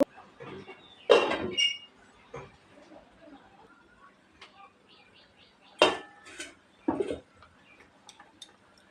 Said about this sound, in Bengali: এবার আমি এটা ঢেকে দেব।